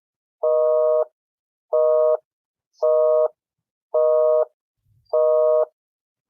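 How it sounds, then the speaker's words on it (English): A telephone busy signal beeps in five evenly spaced tones, loud and clear with silence between each pulse. "Busy signal on them too."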